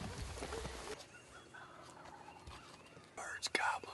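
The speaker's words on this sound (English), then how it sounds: "Bird's gobbling. They just flew down." Wild turkeys gobbling at dawn after flying down from the roost, heard outdoors on a hunt: a few far-off gobbles over quiet woodland air, with a sharper, closer burst of gobbling near the end and faint whispering.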